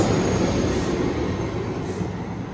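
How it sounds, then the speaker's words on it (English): An Amtrak San Joaquin train hauled by a Siemens SC44 Charger locomotive pulls out of a station, giving a steady, loud rumble of engine and rolling wheels with faint rail squeal throughout. "That's an SC44 Siemens charger"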